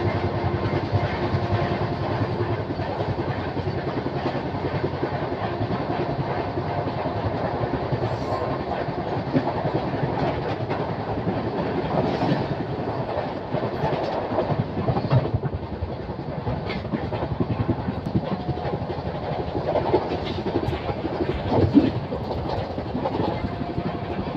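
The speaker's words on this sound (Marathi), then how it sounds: "गिरकी रोड रेल्वे स्टेशन गाडी आता स्किप करत आहे आणि समोरून गाडी पण येत आहे." A passenger train on the Pune to Kurduwadi line runs through Girki Road station as a freight train waits on the loop line, giving a continuous close rumble and rattle of wheels on track.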